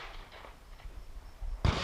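A single sharp gunshot from the low-ready position during shooting practice, loud and near, bursting out near the end after a quiet stretch of low background noise.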